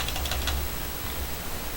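Computer keyboard keys tapped in a short quick burst near the start, a few crisp clicks close by, then quiet room tone with no talk.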